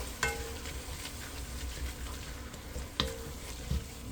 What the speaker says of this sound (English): Give her a stir.